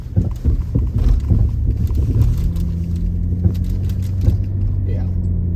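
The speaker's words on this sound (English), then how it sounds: "you can't drive down the road without hearing this terrible hollow suspension sound." A rental car with worn shocks driving down a road gives a steady low rumble with hollow knocks and thumps from the suspension, close and continuous, with a voice speaking over it.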